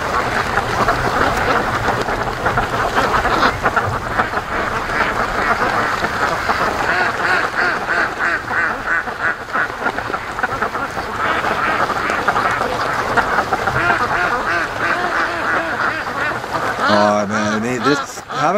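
Free-range ducks quack repeatedly as they come down a creek toward a lake, a busy continuous chorus of calls close by, with a voice talking over them and a brief burst of a different harmonic sound near the end.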